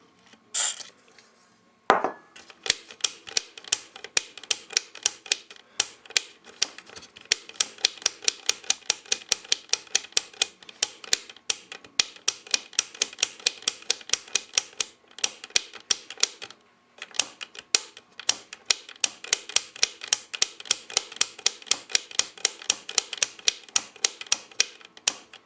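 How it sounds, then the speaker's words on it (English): Contact cleaner sprayed into a pushed-down switch on a Realistic SA-101 amplifier, heard as a long run of close, crisp clicks and short bursts in fairly steady rapid rhythm, with a few brief pauses and no talking. "push it down, put the contact cleaner into the switch, just like that"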